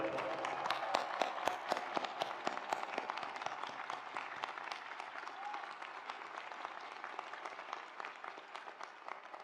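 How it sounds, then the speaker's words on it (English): A large audience at a graduation ceremony breaks into sustained applause, a dense wash of many hands clapping that stays steady and slowly thins, heard from a distance in a big hall. "Let's give them another round of applause."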